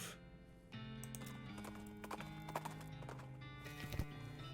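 Horse hooves clip-clop at a steady pace in the video game West of Loathing, with cart horses heard alone over a faint background of game music.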